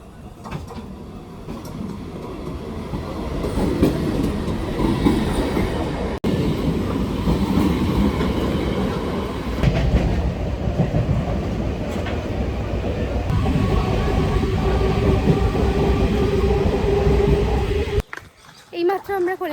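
Inside a passenger train bound for Kolaghat station, a loud steady rumble with rhythmic clickety-clack of wheels on rail joints continues throughout. Voices murmur in the background, with shifts in the noise as the carriage moves and brakes near the end.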